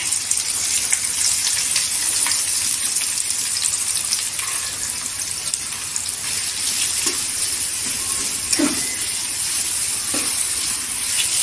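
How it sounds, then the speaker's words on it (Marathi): Sliced onion and curry leaves fry in hot oil with a steady, close, broadband hiss, punctuated by a few brief louder crackles near the end, and no voices are heard. "इथे कांदा तेलावर परतून घ्यायचा गोल्डन कलरवर"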